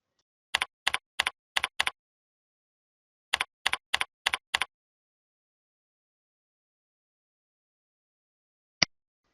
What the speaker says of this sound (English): Type in your username and password and click Login.